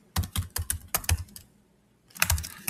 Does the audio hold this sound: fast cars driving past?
no